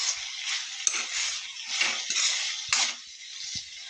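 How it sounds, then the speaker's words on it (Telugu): A ladle presses cooked eggplant in a metal pot, making soft scraping strokes and a few sharp metallic clinks that repeat close by at an irregular pace. "గరిటతో ఇలా నొక్కి చూస్తే ఉడికిందో లేదో తెలిసిపోతుంది"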